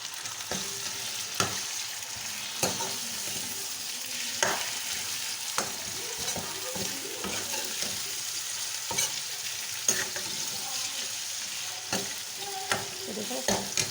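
Minced meat keema with garlic and ginger fries in a pan, a steady sizzle broken by regular scraping stirs from a spoon, close and moderately loud.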